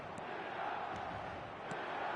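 Stadium crowd on match day in the eFootball video game, a broad, distant roar of massed voices holding steady, with a few faint whistles rising above it.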